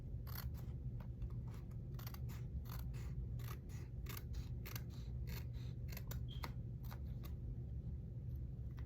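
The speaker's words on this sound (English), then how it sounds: "I'm just gonna cut my edges here, my extra paper." Scissors snip steadily through the excess paper edges of a small pouch made from repurposed packaging, giving a quick run of close, crisp cuts over a low background hum.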